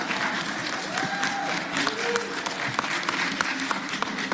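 Spectators at an Atlanta City Council meeting keep applauding, a steady wash of clapping from the chamber with faint voices underneath.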